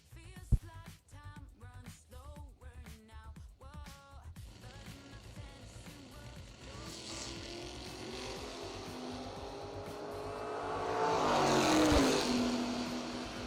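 A drag racing car, a Corvette Roadster, rises from a rumbling idle into a loud, building engine roar that swells toward a peak, preceded by a voice talking over a public address.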